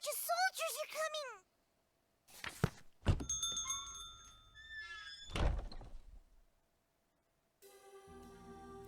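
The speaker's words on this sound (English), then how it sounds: "The caravan doors open and in walks Funa." Caravan doors open in the video game Labyrinth of Refrain, with game sound effects of a thunk and sliding door plus chiming tones, heard in separate bursts with silent gaps between them.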